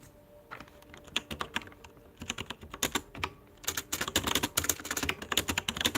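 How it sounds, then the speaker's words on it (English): Rapid clacking of a computer keyboard, close and loud, keystrokes irregular and bursty, speeding into dense typing in the second half, no voices. "Sorry if this keyboard sounds really loud"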